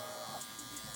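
A Stylecraft Rebel electric hair clipper with a quiet motor runs steadily in a brief, soft, continuous buzz during a haircut.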